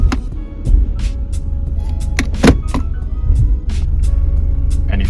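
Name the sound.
car transmission clunking when shifting between gears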